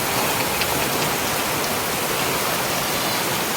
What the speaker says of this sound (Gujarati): ભૂકા ભૂકા પવન ને વરસાદ ને પવન એટલો વરસાદ જ પડે